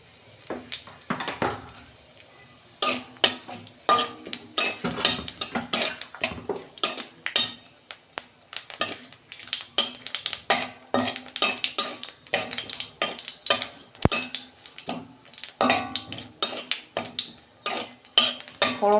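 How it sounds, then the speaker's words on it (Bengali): A spoon stirs whole spices (dried red chilli, cumin seeds and bay leaf) frying in a pan as tempering for a red amaranth chorchori. It makes quick, repeated metallic scrapes and clinks against the pan, busy and close, with faint sizzling underneath. "ফোড়নটা আমি একটু ভেজে নিয়েছি।"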